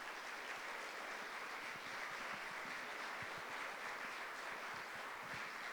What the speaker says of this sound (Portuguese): Vamos dar um aplauso para eles